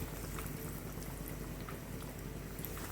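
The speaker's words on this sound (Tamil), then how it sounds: "நம்ம இப்போ சிக்கனை இப்போ நம்ம எண்ணெயில் போட்டு பொரித்து எடுத்துடலாம்" Chicken nuggets frying in hot oil: a steady, fairly quiet bubbling sizzle with small crackles that continues throughout, with no talking.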